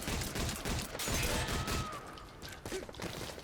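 Bursts of submachine gun fire in the online shooter Metal Gear Solid Online, a dense crackling volley of rapid shots with thuds and impacts, loud and continuous throughout with no talking.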